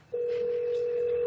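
A steady, unbroken telephone tone comes through the line as a police detective places a call, starting abruptly and holding at even volume with no talking.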